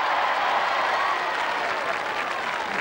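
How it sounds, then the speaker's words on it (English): Crowd applause for a competitor finishing a hopping course at a royal charity knockout tournament, a steady dense wash of clapping held at even loudness throughout, with a murmur of voices mixed in. "Give her a round of applause, please."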